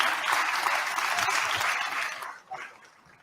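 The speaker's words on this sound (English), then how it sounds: "Big round of applause for our panel" An audience at the Bucharest Forum in Romania applauds a panel, with a dense burst of clapping that holds steady and then dies away near the end.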